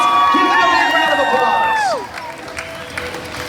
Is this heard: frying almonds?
no